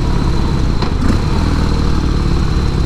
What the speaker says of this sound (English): Engine braking is nice and smooth with the blip on this one.